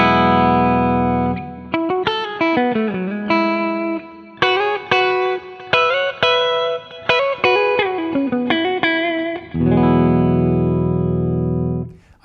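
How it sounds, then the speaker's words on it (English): Electric guitar played through its middle mini humbucker pickup: a sustained chord rings out, then a run of clean, plucked melodic notes and bends, and a final chord that fades to silence. "The middle pickup, our mini humbucker, has a great twang to it, but also still sounds really warm"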